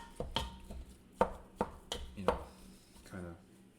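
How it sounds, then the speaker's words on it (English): Spatula scraping and knocking against a pan while ground meat is broken up for chili over medium-high heat, a series of sharp close taps and scrapes in an uneven rhythm. "I'm going to start breaking up the meat a little bit"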